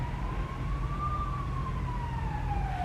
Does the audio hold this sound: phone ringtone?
no